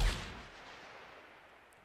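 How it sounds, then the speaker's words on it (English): A single distant gunshot in a Goddess of Victory: Nikke game scene, a sharp burst at the start that trails off into a long fading echo, heard alone. "I hear a gunshot from behind us"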